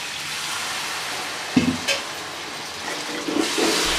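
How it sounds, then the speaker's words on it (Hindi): Water poured into aloo palak frying in a pan, giving soft sizzling and splashing bursts at a moderate level, with a faint background hiss between them. "थोड़ा सा पानी डालेंगे।"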